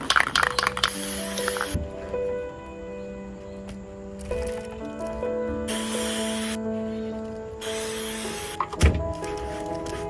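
Several short hissing bursts from an aerosol can of spray adhesive, sprayed in separate blasts with pauses between, over faint background music.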